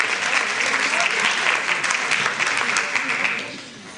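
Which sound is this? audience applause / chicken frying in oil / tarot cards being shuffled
audience applause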